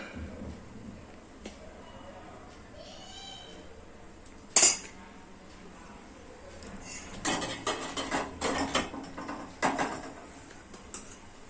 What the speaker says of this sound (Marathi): आपण हे मिश्रण आता हे इडलीच्या भांड्यात भरूया।